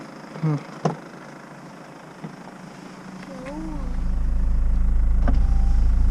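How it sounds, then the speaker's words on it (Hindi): A car's electric power window whirs shut amid a family's roadside stop, with a few voices and bumps before the motor hum rises steadily and continues to the end. "हाँ विंडो बंद करो, बच्चा कांप रहा है।"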